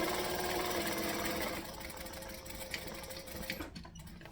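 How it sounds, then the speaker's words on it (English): A sewing machine back stitching runs steadily for about a second and a half, then gives way to quieter mechanical clicks and light handling sounds, with no voices. "Back stitching, trimming the tails."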